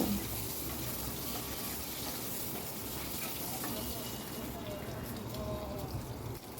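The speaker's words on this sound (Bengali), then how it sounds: "এবার ডিমগুলোকে হালকা করে একটু ফ্রাই করে নেব।" Boiled eggs frying lightly in a pan give a soft, continuous sizzle, faint and close, with a person talking over it.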